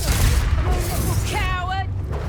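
Confringo blasting spell detonating in Hogwarts Legacy, a rumbling burst of game explosions and crackling impacts under the music, with a brief voiced whoop near the end.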